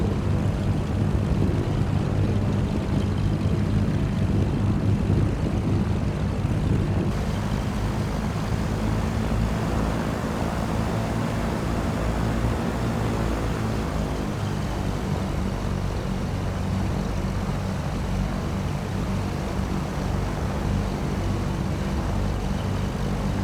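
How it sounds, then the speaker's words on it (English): Engine drone of a MilViz Cessna 310R twin piston-engine aircraft taxiing in Microsoft Flight Simulator, a steady low propeller hum holding close and even throughout with no talk. "Handbrake is off and just a short taxi to the runway."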